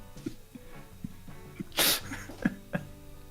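A human voice imitating a pug sneezing, with a loud, sharp snorting burst in the middle, surrounded by shorter nasal snuffles and grunts.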